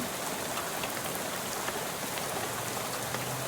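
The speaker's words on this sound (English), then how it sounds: "How about this rain, huh?" Heavy, continuous rain falling in the video game Shadows Over Loathing, a dense, even hiss of droplets at steady loudness throughout, with no voices.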